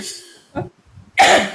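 A few close coughs in quick succession, a short one then a rougher, louder cough, with quiet breathing between.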